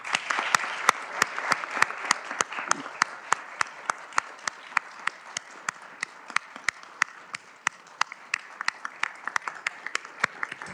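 A Supreme Court plenary session rises in a standing ovation during a tribute to Rui Barbosa, many hands clapping in a large hall with distinct sharp individual claps ringing out over a softer continuous patter.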